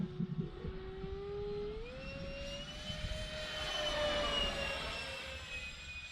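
A Dynam Me262 model jet with twin 70mm electric ducted fans on a 4S battery streaks past, a distant rising whine that swells and fades as it loops overhead, with no voices.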